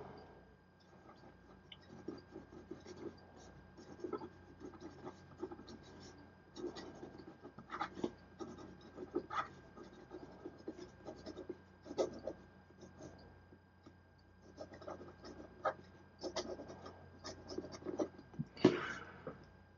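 A Visconti Opera Club fountain pen with a platinum nib writes quickly on paper: soft, close, irregular scratchy strokes in quick bursts, quiet throughout, with one louder scrape near the end.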